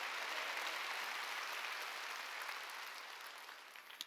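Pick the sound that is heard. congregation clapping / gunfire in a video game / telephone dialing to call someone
congregation clapping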